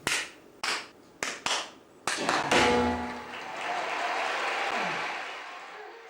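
Several sharp, separate claps echo in a cinema auditorium, then a quick burst of clapping that rings out into a long reverberant tail.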